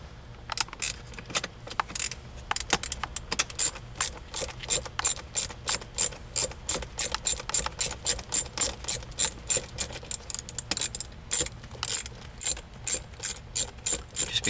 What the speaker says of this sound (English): using your 7mm socket, we're going to remove these two bolts